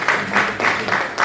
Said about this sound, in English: Let's clap for them too.